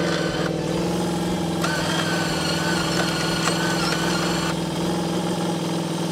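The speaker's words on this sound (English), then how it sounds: "I'll just turn around and drag it with the four-wheeler anyways" A four-wheeler engine runs steadily at a low, even idle-like drone while dragging a load on a long tow rope at an off-grid homestead, close and continuous with no talking.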